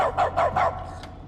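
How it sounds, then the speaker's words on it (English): A dog in The Stanley Parable video game gives three or four quick, sharp barks in a row, fairly close and clear, then falls quiet with a low hum beneath. "Is the narrator now tired of the barking?"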